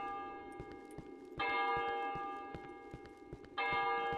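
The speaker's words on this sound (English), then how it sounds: "Ah, this is a bell." A bell in the video game Cry of Fear rings out in two loud, resonant strikes, each ringing on with a sustained tone over a faint ticking background.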